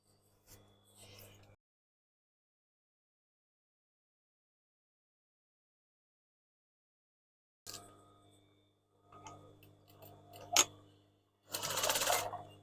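A sewing machine stitches a fabric gift bag in short separate runs, first a brief whirr, then a long silence, then several louder bursts of stitching and handling noise toward the end.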